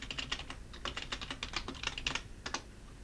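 A password is typed on a computer keyboard in a quick run of light, close keystrokes with brief pauses, no voice over them.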